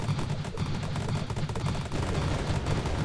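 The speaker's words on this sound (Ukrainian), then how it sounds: "Беремо калашик і закидуємо ще й гранати" Kalashnikov fire and grenade blasts in a video game form a dense, continuous barrage of rapid overlapping shots, loud and unbroken for the whole stretch.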